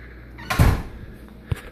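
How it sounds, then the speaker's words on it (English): A door in a house's garage is pushed shut with one solid thunk, followed by a softer knock a second later, close by and with no talk. "Shut that door."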